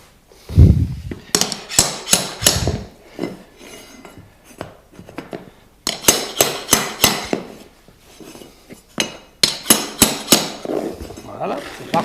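Hammer and tapping block knocking a PVC imitation-parquet floor plank tight, sharp close taps in several quick bursts separated by short pauses.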